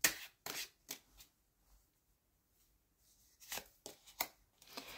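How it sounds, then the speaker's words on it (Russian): Tarot cards being shuffled and drawn from the deck, heard as a series of short crisp rustles and slaps, some sharp bursts close together, with quiet gaps between. "и достанем 3 карты"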